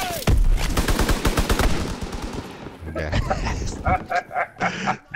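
A strafing run in Call of Duty WW2 opens with a long, loud burst of rapid machine-gun fire, then trails into scattered shots and sounds under a voice talking.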